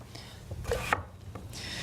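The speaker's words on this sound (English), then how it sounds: "So we've got three people action on the chopping board here, which makes it very exciting." Knife chopping potatoes on a chopping board while a kids' cooking session prepares soy and ginger tofu steaks with mash, a few quick close cuts and scrapes over about two seconds.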